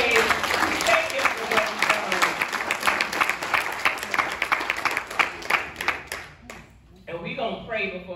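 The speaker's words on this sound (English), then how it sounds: "let's just give God one more hand clap of praise" Church congregation clapping in praise, a dense burst of many hands lasting several seconds before dying away, with voices rising underneath as it fades.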